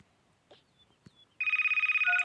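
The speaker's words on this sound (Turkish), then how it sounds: "Telefon arayıp duruyor." After a few faint knocks and rustles in a quiet room, a nearby telephone begins ringing loudly in a rapid, warbling electronic trill that keeps going steadily until the end.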